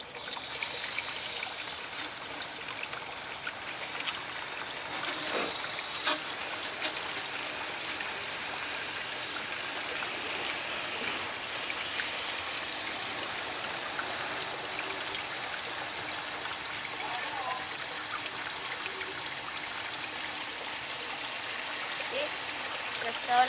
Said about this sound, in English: Put water through the holes, make it go down,